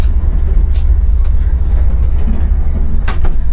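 Inside a commuter train early in the morning, a steady low rumble of the carriage in motion fills the space, with a few brief clicks and knocks from the interior.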